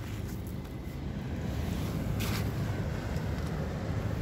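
Big waves stirred up by a large passing ship, a steady low rumbling surge of water mixed with wind buffeting the microphone, building slightly louder toward the end.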